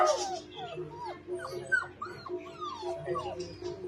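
A black German Shepherd puppy lets out a run of high whimpers, yips and short barks indoors, close and fairly loud, with a person's voice faintly mixed in.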